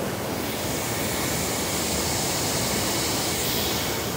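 Steady, loud wash of water near the shore in San Francisco, a continuous broadband rush with no breaks and no voices over it.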